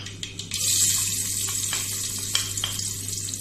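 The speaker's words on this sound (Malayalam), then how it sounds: "കടുക് പൊട്ടാൻ തുടങ്ങിയിട്ടുണ്ട്." Mustard seeds pop and sizzle in hot oil while crab roast is being cooked, a steady close frying hiss broken by a few sharp crackling pops, with no talk over it.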